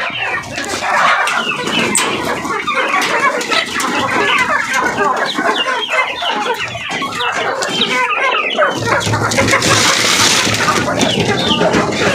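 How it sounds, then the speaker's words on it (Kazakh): A crowd of chickens clucks and squawks continuously at close range, a loud overlapping chorus with occasional wing flutters. "Менің тауықтарым осы."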